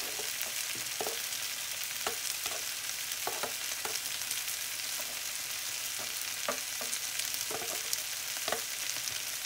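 Garlic sizzles steadily in a hot pan for a Flemish carbonnade beef stew, a constant bright hiss with occasional scrapes and stirring clicks, close and even throughout.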